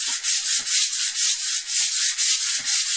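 A wooden tool handle with its lacquer removed is roughed up with sandpaper in quick, steady back-and-forth strokes that sound close and rhythmic, about a dozen passes with no talking.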